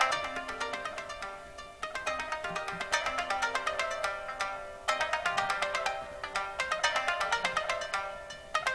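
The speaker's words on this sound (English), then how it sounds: "This is the koto" A koto, the Japanese plucked string instrument, plays bright, ringing plucked notes in quick runs and repeated phrases over a soft sustained backing, with no talking.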